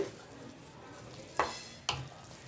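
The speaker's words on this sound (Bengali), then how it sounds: "এবার আমি এতে দিয়ে দেব কিছু কিশমিশ আর কিছু কাজু, দিয়ে ভালো করে নাড়িয়ে" Carrot halwa cooked in ghee, with raisins and cashews added, being stirred in a pan: a low simmering sizzle and two distinct scraping knocks of a spoon against the pan, close and without voices.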